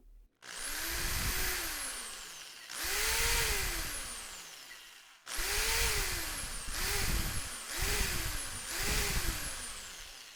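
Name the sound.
electric drill running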